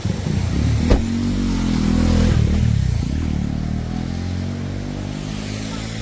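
A motorcycle arrives near a hidden waterfall spot in Uttarakhand near Dehradun, its engine a loud, close rumble that swells and then drifts on under steady rushing water, with no talk.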